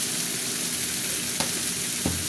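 Ground coriander, cumin, turmeric, chilli and salt sizzle in hot oil, a close steady crackling hiss with two soft scrapes of stirring.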